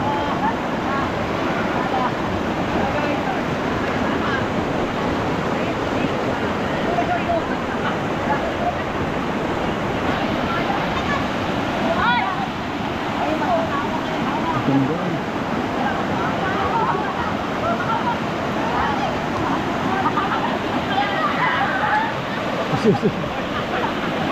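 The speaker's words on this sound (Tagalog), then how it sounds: "Yan, yung bukal po. Bukal ng Dumakaa." Spring water at the Dumacaa River rushes in a steady, loud broadband wash with no pauses, while voices speak over it now and then.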